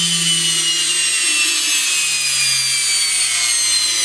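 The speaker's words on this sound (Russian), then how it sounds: "электродвигатель у нас рабочий" A Samsung washing machine's electric motor runs on a repair bench, giving a steady, loud whirring hum whose low tone slowly drops in pitch as it spins, with no talking.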